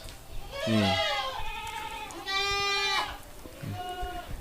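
Several goats bleat nearby in loud, wavering calls, three or four in succession with short gaps between.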